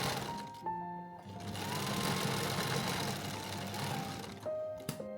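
A sewing machine stitches French seams on a stage dress, running in a steady close mechanical whir with a fast rhythmic needle chatter and short stops and restarts.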